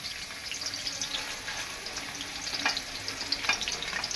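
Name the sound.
dry garlic and ginger-garlic paste frying in oil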